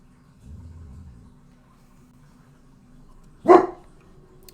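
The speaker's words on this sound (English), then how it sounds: "My dogs are going nuts." After a low rumble, one dog gives a single sharp, close bark that stands out against an otherwise quiet room.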